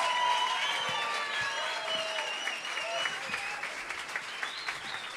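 A live concert crowd applauds a band, with sustained cheering and high whistles over scattered clapping and voices, loud at first and easing slightly.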